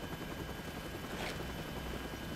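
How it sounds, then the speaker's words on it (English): A helicopter in the video game Ace Combat Assault Horizon gives off a steady, loud rotor drone that fills the whole clip, with a brief brighter swell in the middle. "This is the second and last mission as a helicopter gunner."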